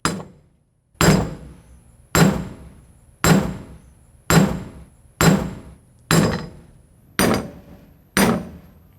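A hammer drives a bearing race into a trailer wheel hub through a socket, nine sharp metallic strikes at a steady rhythm about one second apart, each ringing briefly before the next blow.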